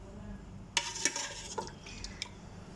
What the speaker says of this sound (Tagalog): So, ilipat natin siya dito sa aking kawali.